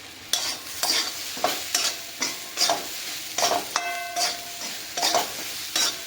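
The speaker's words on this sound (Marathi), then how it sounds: "आता आपले दाणे भाजून झालेत" Corn kernels with chili powder roast in a pan, a soft background sizzle under repeated rhythmic scraping stirs about every half second, close and fairly clear, with a brief tonal clink midway and no voices.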